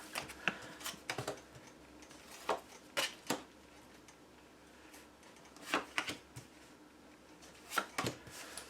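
Soft, irregular taps and slaps of tarot cards being laid out on a surface, a few clustered flicks between quieter pauses, close and fairly faint.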